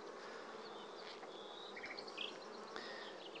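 Dense, steady buzzing of many honeybees swarming nearby at an open hive frame, a continuous hum with occasional higher whines as individuals pass close.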